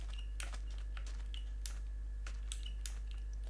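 Computer keyboard keys clack in quick, irregular taps and short bursts during a Minecraft gaming session, heard close and fairly quiet over a steady low electrical hum.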